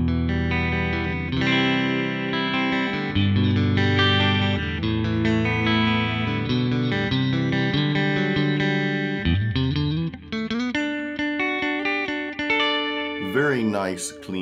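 A clean electric guitar plays through the Line 6 POD Go's US Double Vib amp model, based on a Fender Dual Reverb, with sustained chords and single notes ringing out clearly and alone, then a brief slide at the end.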